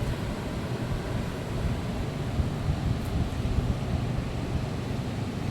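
Constant wind blowing across the microphone at the sea at low tide just after a typhoon, a steady rushing roar with a soft surf-like wash beneath, and no voices.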